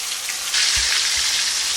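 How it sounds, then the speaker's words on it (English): Nugget pieces frying with tomatoes, onions, red and green peppers in hot oil, a dense bright crackling sizzle that swells up close, with a couple of soft low bumps beneath and no talking. "I'm gonna fry the nuggets pieces first."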